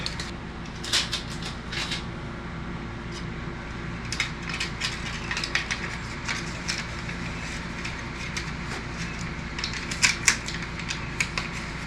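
AC foil tape being torn off its roll during a KoolRV air conditioner sealing job on an RV: crinkly, crackling tearing with scattered sharp ticks and rustles, close and fairly quiet over steady low hum.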